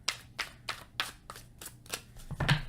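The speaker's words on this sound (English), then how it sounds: "we're going to cut your deck" A tarot deck is cut and handled, giving a series of soft, regular card slaps and riffles close by, about eight taps evenly spaced, then a brief rustle at the end.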